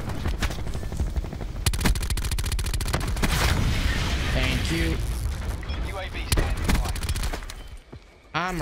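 Rapid submachine gun bursts in the video game Black Ops 4, dense and continuous automatic fire layered with explosions, mechanical clatter and game effects throughout.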